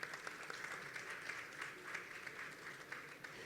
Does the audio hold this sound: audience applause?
yes